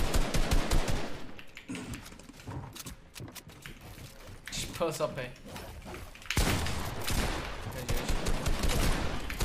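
Fortnite gunfire: rapid bursts and single shots crackle in clusters, some near and loud, others sparser, over game mechanisms and clicks while players talk excitedly over them.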